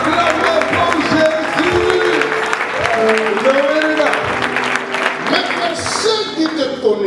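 A church congregation applauds in praise of Jesus, a dense, sustained wash of clapping that fills the room while a preacher's voice and other voices carry on over it.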